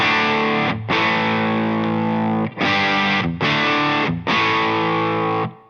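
Distorted electric guitar chords through a Crazy Tube Circuit Heatseeker pedal, strummed loud and close in several sustained bursts with brief gaps between them, no voices.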